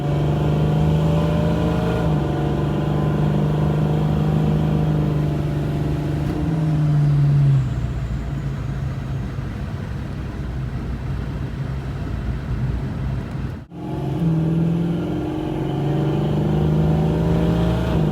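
A car called the Carbon Fox running with methanol injection, its engine droning and rising through long revs, dropping back, briefly cutting out, then climbing again, loud and close.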